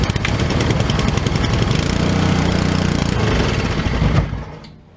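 A small engine on a free secondhand machine, run with choke, chugs loudly and steadily at close range for several seconds before cutting out.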